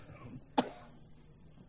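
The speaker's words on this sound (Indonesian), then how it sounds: "Mohon maaf saya batuk" A single short cough sounds close by, then quiet room noise, with the start of another cough at the very end.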